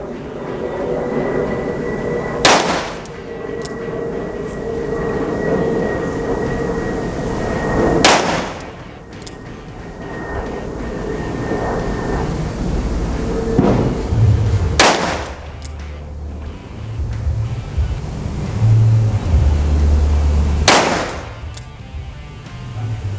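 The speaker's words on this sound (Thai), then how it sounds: "พร้อมแล้ว เริ่มยิง" A 2-inch snub-nose revolver fired on a range, one of the S&W, Ruger and Taurus models under test. Four loud, sharp shots ring out several seconds apart over a steady background hum; no talking.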